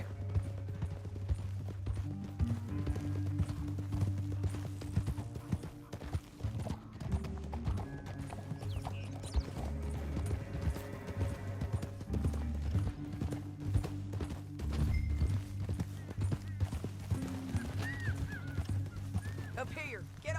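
Horses' hooves clip-clop steadily in Red Dead Redemption 2, mixed under game music and ambience with a faint whinny, no talking.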